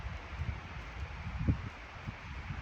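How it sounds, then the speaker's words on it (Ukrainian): Strong wind in the mountains rustles through foliage, a soft, uneven crackling and rushing with gusty swells, fairly quiet and with no one talking. "Дуже сильний вітер"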